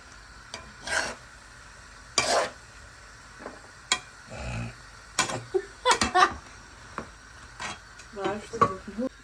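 Food being stirred in a cooking pot, with intermittent scraping and clinking strokes in short bursts amid a faint background, no speech over it.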